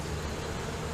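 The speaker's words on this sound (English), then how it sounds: "We got 4 mediums full of bees here." Honey bees humming steadily from a hive of four medium boxes, a dense continuous buzz close by with no talk.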